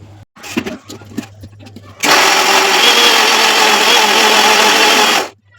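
A kitchen mixer grinder blending vegetables into a paste starts suddenly after some light handling noises and runs as a loud, steady, high whirring drone for about three seconds before stopping abruptly.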